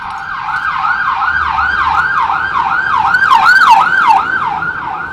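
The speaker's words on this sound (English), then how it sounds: "What that sound like a fire truck." A loud fire truck siren wails, sweeping rapidly up and down in pitch, close by and repeating steadily.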